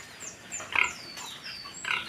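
Pigs grunt and squeal in a few scattered bursts, moderately distant, over a low background murmur.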